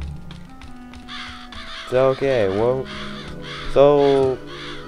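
Crows caw in the video game Psychonauts, two drawn-out harsh calls rising over a quieter game soundscape while someone talks in between.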